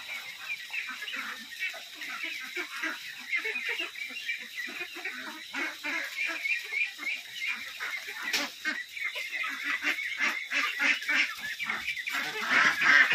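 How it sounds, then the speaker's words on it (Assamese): Khaki Campbell and local ducks on a duck farm in Nalbari, Assam, giving a dense, continuous chorus of honking quacks from many birds at once, steady and fairly loud throughout with no talking. "আৰু এইবিলাক হ'ল লোকেল পাতিহাঁহ।"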